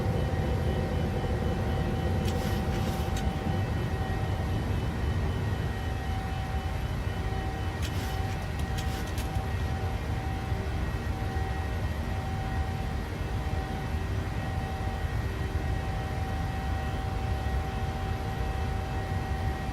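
Airliner engines in a flight simulator game during the takeoff roll, a steady broad roar with a constant tonal hum, loud and continuous with no talking.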